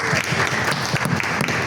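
A church congregation claps in a brief, dense burst of applause, steady and fairly close throughout.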